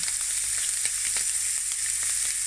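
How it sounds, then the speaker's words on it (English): An egg frying in a pan for a breakfast sandwich gives a steady, bright, close sizzle throughout, with faint clicks and pops, and no one talks. "now we're going to stick our egg in here"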